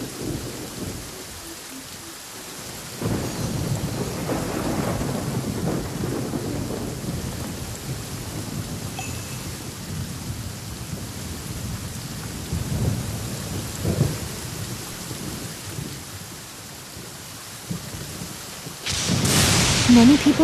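Thunderstorm in a video game, with steady rain on surfaces and deep rolling rumbles of thunder that swell and fade, plus a louder burst near the end.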